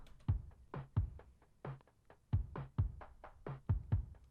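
A muffled drum beat through a low-pass filter, highs cut off, thumping kicks and dull snare hits in a steady chill pop groove, soft and rounded, no voices.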